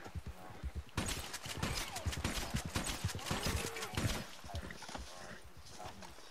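Hoofbeats from a horse in the open-world western game Red Dead Redemption 2, a busy run of clip-clop steps mixed with distant gunfire and game sounds, fairly loud throughout.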